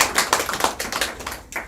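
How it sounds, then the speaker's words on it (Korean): Applause at a press conference outside the National Assembly, a run of distinct, fairly close hand claps in an uneven rhythm, loud and crisp, with no talk over it. "큰 박수 부탁드리겠습니다."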